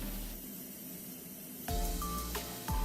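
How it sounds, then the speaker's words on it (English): Spray paint misting onto a Gunpla plastic model kit, a soft steady hiss that breaks into a few sharper, louder spray bursts with small clicks near the end, close and quiet. "For the first step of the painting process, I will spray mist first"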